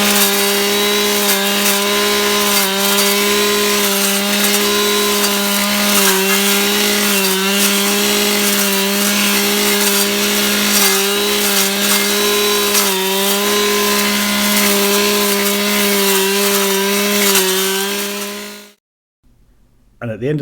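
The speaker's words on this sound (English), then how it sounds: "In there with the brush cutter, clearing out all the excess grass and brush and ivy" A brush cutter whines steadily at high revs while clearing grass, brush and ivy from steps and paths, loud and close with small pitch dips as it bites into growth, then cutting out near the end.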